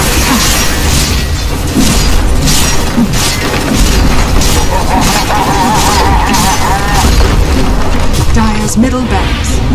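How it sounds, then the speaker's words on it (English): Dire's middle barracks in Dota 2 crumble amid dense, continuous battle noise, with repeated crashes, booms and crumbling impacts layered under steady clashing effects for nearly ten seconds. "Dire's middle barracks have fallen."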